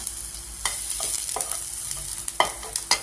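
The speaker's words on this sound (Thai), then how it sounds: "แล้วก็ใส่ขิงลงไปผัดก่อนเลยนะคะ" Ginger sizzles in a pan while being stir-fried, a continuous close frying hiss punctuated by sharp spatula scrapes and knocks, with no voices.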